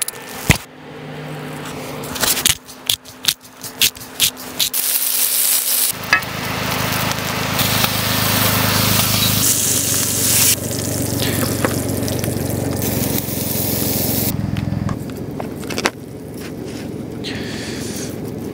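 Steak and shrimp fry in a cast iron pan on a Nuwave Flex induction cooktop in a camper van. Clatters and handling come first, then a loud, steady sizzle fills the rest, with scraping and stirring on top.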